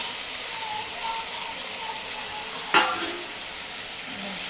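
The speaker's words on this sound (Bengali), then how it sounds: "এই দইটা দেওয়ার পরে এবার মাছগুলো আমি ছেড়ে দেবো" Katla fish pieces go into a yogurt sauce frying in a pan. There is a steady, close sizzle, a sharp splash-like clatter partway through and a smaller one later, with no talking.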